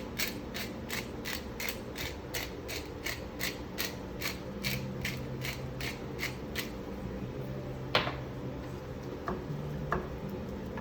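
A hand pepper grinder cranked over sweet potatoes being filled with turkey taco stuffing, giving a steady run of dry, rasping ratchet clicks at close range that slows and thins toward the end.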